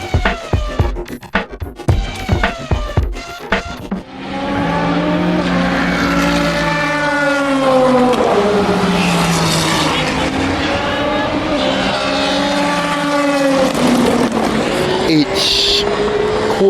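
Race cars roar past during a night motor race, engine notes rising and falling in long sweeping passes, loud and continuous after a few seconds of brief talk and knocks at the start.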